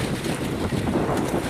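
Strong seaside wind rushes and buffets the microphone in a steady, loud roar with no one speaking.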